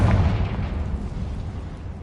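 A Confringo fire spell explodes in the video game Hogwarts Legacy: one loud, close booming blast that rolls off into a dense, rumbling decay, with no voices.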